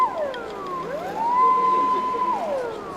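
A police car siren wails close by, sweeping down, rising and then holding a long steady high tone before falling again, loud over faint background noise.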